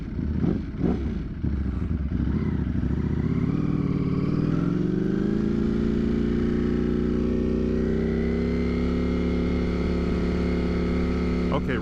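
A motorcycle engine idling to warm up on a cold 35-degree day, a close, steady low rumble that settles and smooths out after a few rough opening pulses.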